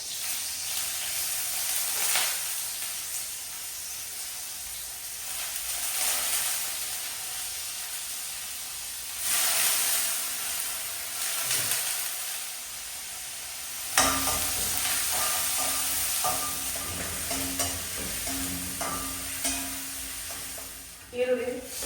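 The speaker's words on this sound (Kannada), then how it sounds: "ಎಣ್ಣೆ ಬಿಸಿ ಆದ ನಂತರ ಅದಕ್ಕೆ ಬೆಳ್ಳುಳ್ಳಿ ಸ್ವಲ್ಪ ಕಟ್ ಮಾಡಿದ್ದೇನೆ, ಅದಾಗಿ ಈರುಳ್ಳಿ ಹಾಕ್ತಾ ಇದ್ದೇನೆ." Chopped garlic and onions sizzling in hot oil, a continuous frying hiss with stirring scrapes, rising in bursts as the ingredients are added and stirred, heard close up with little talk.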